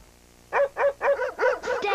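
A cartoon dog barks five times in quick succession, loud and close with a yipping, slightly whiny tone and no talk over it.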